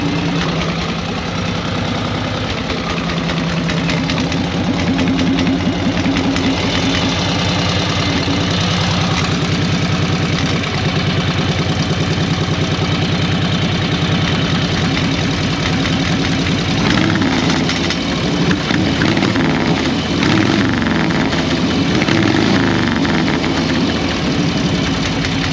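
A flathead engine idles steadily and loud throughout, its exhaust making a rapid metallic tapping over the low, continuous rumble, with no talk.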